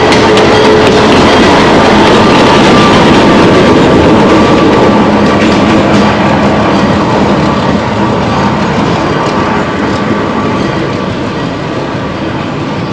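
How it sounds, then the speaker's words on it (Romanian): A train locomotive passes close by on a rail line near Machu Picchu in Peru, heard as a loud, sustained rumble with rattling rail clatter that slowly eases as it moves on, with no talk. "Era doar locomotiva."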